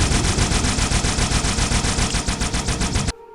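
The Needler from Halo 2 fires a rapid, unbroken stream of shots, loud and close, for about three seconds before cutting off abruptly.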